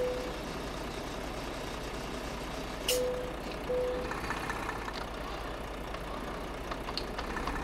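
A Renault Premium truck engine idles in a truck simulator game with a low steady rumble, quiet and continuous, broken by a short hiss and a few brief beeps.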